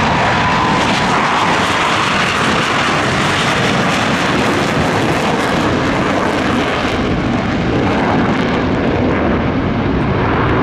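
A Blue Angels jet formation roars loud and close at Pensacola Naval Air Station, a continuous broadband engine blast sustained throughout as the aircraft take off and fly overhead.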